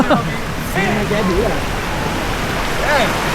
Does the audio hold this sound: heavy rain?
yes